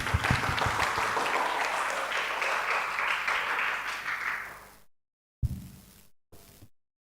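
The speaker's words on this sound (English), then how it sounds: "Let's give him a round of applause." An indoor school storytelling contest audience claps for a contestant, a dense steady burst of applause that holds for several seconds, then fades and stops abruptly.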